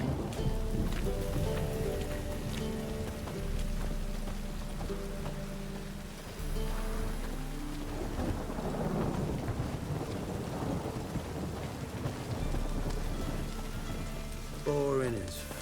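Steady rain patters with rolling thunder in The Witcher 3, a continuous wet hiss under game music, with a brief voice near the end.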